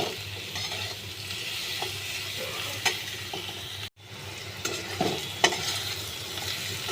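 Spice masala fries in hot oil while being stirred, with a constant sizzle and repeated scraping strokes of a spoon in the pan, interrupted by a brief dropout midway.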